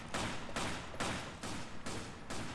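Rapid bursts of gunfire in Resident Evil 5 co-op play, about five loud, evenly spaced volleys that run together with no talking over them.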